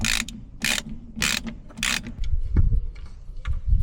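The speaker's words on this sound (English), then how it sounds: "now we need to take these bolts and tighten the caliper back onto the carrier." Ratchet with a 13mm socket tightening brake caliper bolts on a GTI, several sharp close clicking bursts in a quick rhythm, followed by duller metallic clunks and handling noises.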